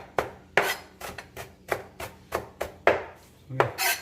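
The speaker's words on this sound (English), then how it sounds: "You want to get your cilantro pretty finely chopped." Kitchen knife finely chopping bunched cilantro on a board, a steady run of about ten crisp, close knocks in quick rhythm, no voices.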